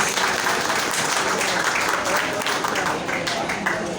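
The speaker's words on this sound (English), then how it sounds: "Round of applause, please." Audience at the opening of the Davao Art Fest applauding a dignitary, the chairperson of the Mindanao Development Authority: a sustained, even wash of many hands clapping at moderate loudness throughout.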